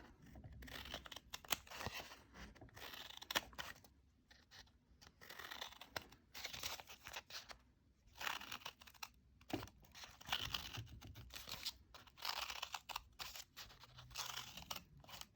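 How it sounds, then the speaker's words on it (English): Paper being cut into strips with scissors for a honeycomb kirigami design, a steady run of close, crisp snips and rustles with brief pauses between cuts and no talking. "you are going to continue cutting strips all the way down your piece of paper"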